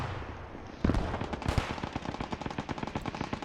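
Rapid machine gun fire in a multiplayer war video game, a loud close burst of fast, steady shots after a brief quieter lead-in.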